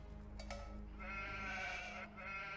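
Sheep bleating in Age of Empires 2 Definitive Edition, with a single drawn-out bleat over a steady game soundscape that holds a low hum throughout.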